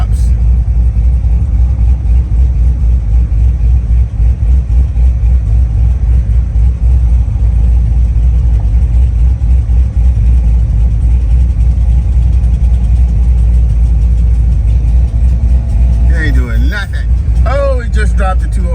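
A Corvette idles with its cooling fan switched to high, giving a loud, constant low rumble and steady rush of air. A brief squeaky sound appears near the end.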